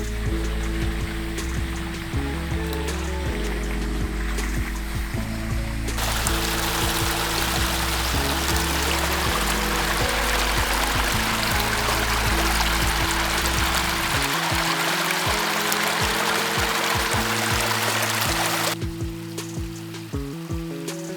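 A flowing mountain waterfall stream rushes steadily and loudly for the whole stretch, a dense continuous wash of water with no voices, its tone shifting slightly partway through.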